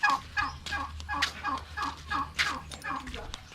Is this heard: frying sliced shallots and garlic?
no